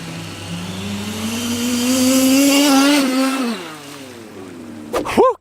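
The world's biggest gasoline-powered RC car drives on water, its small engine droning loud and close, rising in pitch as it accelerates, then dropping away before a sharp closing burst.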